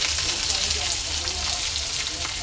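Onion frying in a pan with mustard seeds and black pepper for soyabean bhaji, a dense steady sizzle close by, continuous throughout with a voice speaking over it.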